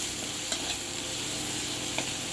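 Spices fry with dried chilli powder in a pan over a clay stove, a steady close sizzle with a couple of sharp scraping stirs, no voices.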